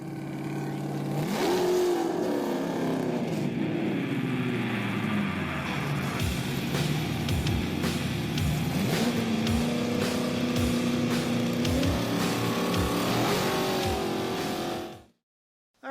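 A car engine fires up on a cold start and runs loud and close, its pitch rising and falling through several revs before it cuts off abruptly near the end.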